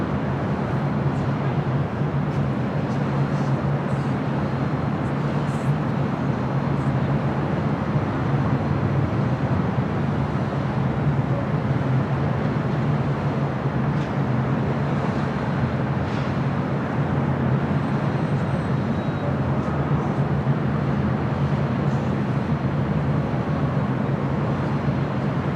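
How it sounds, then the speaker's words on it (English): An American Airlines Boeing 777-300ER takes off at LAX as a steady, broad jet roar that holds loud and unbroken, with no voices over it. "We got an American 777-300ER. Going to be taking off here shortly."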